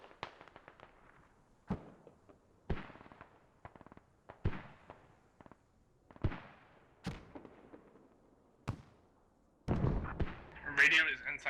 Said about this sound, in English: we're gonna send heavy mortars on that half stressor